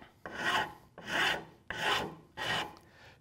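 Hand file rasping coarse bandsaw blade marks off a wooden rocker's roundover profile, four steady strokes in an even rhythm with short pauses between, close and clear with no voices.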